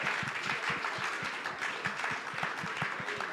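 Small audience clapping steadily at a tech fellowship demo day, a dense run of overlapping hand claps that holds at an even level for the whole stretch without a clear start or finish.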